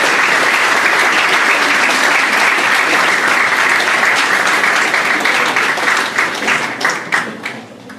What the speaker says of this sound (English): And so you all deserve a huge, great round of applause.